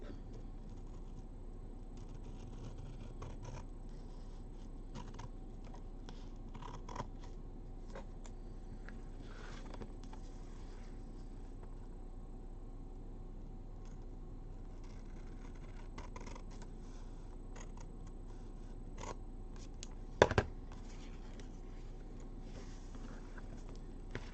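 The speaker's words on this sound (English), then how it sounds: "when I have long things to cut, I do like my long scissors because I can do it in like one swoop." Long scissors cutting craft material at a red, white and blue themed event, faint snipping over a steady low background hum, with one sharper click late on.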